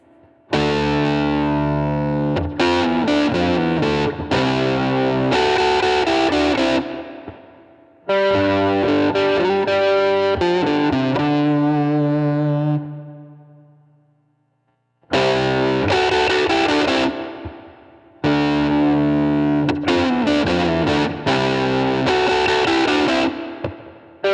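A heavily distorted electric guitar riff played loud, in several phrases separated by short pauses, with sustained chords ringing out between choppy bursts.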